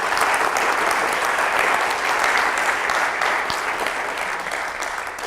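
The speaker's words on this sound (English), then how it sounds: "I want to ask you to give them a round of applause." An audience applauds in a dense, steady wash of clapping that fills the room for several seconds and tapers slightly at the end.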